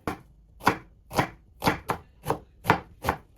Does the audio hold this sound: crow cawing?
no